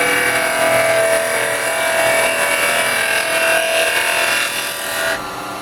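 Carbide chisels cut a small resin bowl spinning on a woodturning lathe, giving a steady, loud scraping hiss with a faint tonal whine that runs unbroken for about five seconds, then drops off abruptly near the end.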